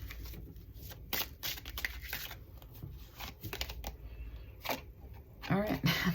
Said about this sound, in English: so that I can cut down on the shuffle sounds